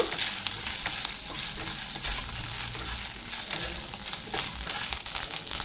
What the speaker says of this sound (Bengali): আদা বাটাটাকেও কাঁচা গন্ধ চাওয়া পর্যন্ত একটু নাড়াচাড়া করে নেব